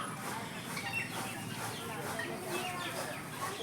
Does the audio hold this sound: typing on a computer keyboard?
no